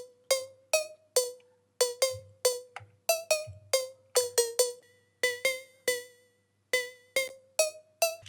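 Raw, unprocessed bell-like synth tone from a music mix, playing a rhythmic pattern of bright, percussive struck notes with quick decays, a faint low synth part underneath; close and clear with no talking.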